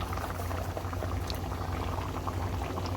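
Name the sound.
paneer butter masala gravy boiling in pan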